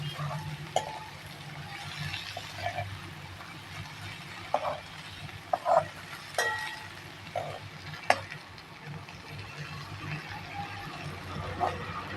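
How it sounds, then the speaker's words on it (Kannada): Drumstick leaves frying and being stirred in a pan, a steady low sizzle broken by scattered scraping clicks of a spatula, close and moderately loud with no voices. "ಇದನ್ನು ಎಲ್ಲ ಫ್ರೈ ಮಾಡ್ಕೋಬೇಕು"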